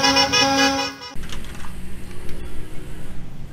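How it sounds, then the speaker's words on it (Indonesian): A toy school bus sounds a loud, close horn tone for about a second, which cuts off abruptly and gives way to quieter rattling and clicking noises. "Mobil bus sekolah atau school bus."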